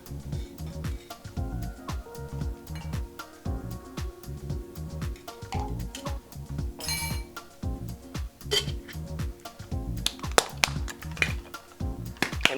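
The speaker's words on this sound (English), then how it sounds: "We'll add our ice cubes." Ice cubes clatter into two cocktail shakers while daiquiris are made, with a steady run of rapid clinks and rattles against metal and glass, growing sharper toward the end.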